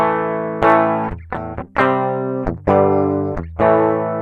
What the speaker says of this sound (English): guitar with nothing on it sounds like this